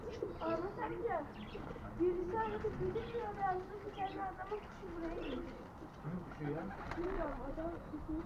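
A pigeon coos in soft, repeated warbling phrases, fairly faint and mid-distance, continuing steadily over the whole stretch.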